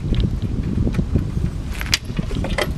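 Keys jangling up close inside a camper van, bright metallic clinks over a low rumble, with a sharper cluster of jingles near the end.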